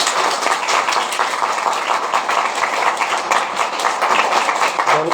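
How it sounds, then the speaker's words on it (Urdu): A church congregation at a Urdu-language sermon claps loudly, a dense, sustained burst of many hands filling the room for several seconds with no talk over it. "زوردار تالی بجائیں"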